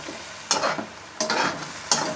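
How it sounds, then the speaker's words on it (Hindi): Three scraping stirs of a spoon through softening tomatoes in a karahi, spaced roughly evenly, over a soft continuous sizzle. "अब हम इसको मिक्स कर लेते हैं अच्छी तरह"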